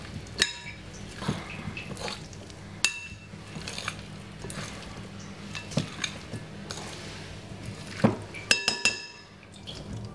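A spoon stirs Jamaican-style potato salad with egg in a bowl, giving steady scraping and repeated light clinks against the dish, with a busier burst of clinking near the end and no talking.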